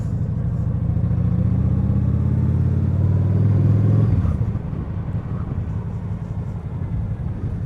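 Honda Shadow 750 Aero motorcycle engine rumbling steadily while riding, loud and close with no talk; a deep sustained drone that swells slightly, then drops to a lower, rougher idle-like rumble partway through.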